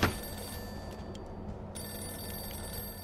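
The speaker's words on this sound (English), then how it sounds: "I don't wanna answer the phone yet." Telephone ringing in the video game Mafia 2, an old-style bell ring sounding in bursts with a brief gap, heard close and clear over low game ambience.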